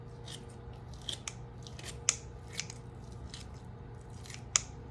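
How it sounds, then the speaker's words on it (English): Cooking scissors snipping around a bone while preparing food, a series of sharp, close, fairly quiet snips at irregular intervals over a low steady background hum. "I use scissors that are cooking scissors"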